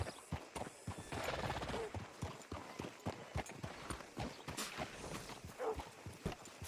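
Horse hooves clip-clop in the Red Dead Redemption 2 video game, a close, crisp rhythm of steps that speeds into a quick patter and then slows to spaced walking beats, with a whinny near the end.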